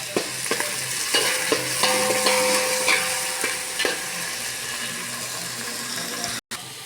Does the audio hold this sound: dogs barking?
no